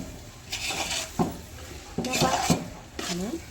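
A spoon clanks and scrapes against a pot as tomatoes are added and stirred for a night biryani party, in several bursts of metallic clatter with a faint sizzle underneath.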